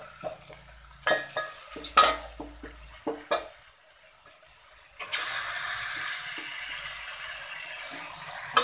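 Chicken for a spicy Khandeshi chicken curry hits the pan and is stirred, with scraping, clattering stirs, bursts of sizzle and a watery hiss swelling midway, close and loud without speech.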